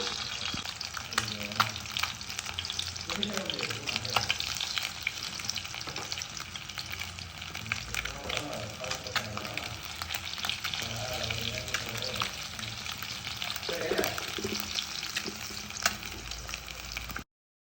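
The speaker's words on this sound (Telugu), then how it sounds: "ఈ విధంగా ఎగ్స్ని ఫ్రై చేసుకొని" Steady, close sizzling and crackling of eggs seasoned with salt and chili powder frying in hot oil in a pan, continuous throughout with small pops and occasional stirring.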